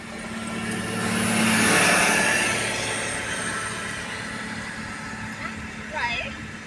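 A vehicle approaches on a quiet road, swells to a broad rushing roar as it passes close by, then fades away, followed by a faint squeak near the end.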